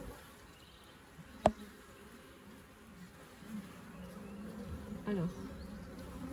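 Honeybees at an open hive make a steady soft drone close by. A sharp tap and a few brief louder buzzes rise over it, and someone speaks a word.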